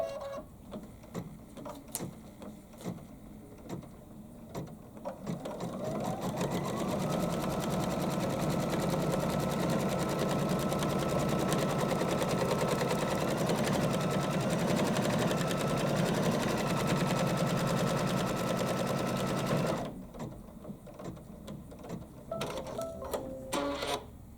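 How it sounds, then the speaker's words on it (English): An embroidery machine stitches a placement line for a tooth appliqué shape, a steady loud mechanical whir lasting about fifteen seconds in the middle, with quieter handling noises before and after. "it's going to do the placement line for our tooth. So I'm going to go ahead and stitch that out"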